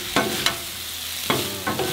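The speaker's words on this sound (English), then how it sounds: "I'm gonna mix up my beans here." Beans being stirred on a Blackstone griddle, with a spatula scraping the hot flat-top in a few sharp, close strokes over a low, steady sizzle.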